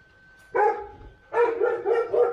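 Forty-day-old pit bull puppies barking in a kennel, one short yap then a quick string of high, close barks.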